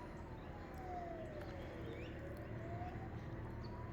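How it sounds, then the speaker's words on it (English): Emergency sirens wail faintly in the distance, a slow rising and falling tone that stays steady under a loud outdoor ambience with occasional birdsong, near a bowerbird's nest. "there's sirens going on."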